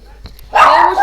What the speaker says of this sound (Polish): I pies znowu szczeka, ale trudno, damy radę.